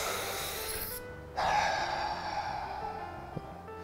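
A man imitates the slow, deep breathing of someone using a Boost Oxygen canned supplemental oxygen product, a brief sharp inhale followed by a longer breath, close to the mic.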